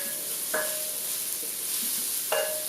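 Cloves hit a warming pan for tomato shorba, giving a constant soft sizzle with two brief scraping clinks as they are stirred, close and alone.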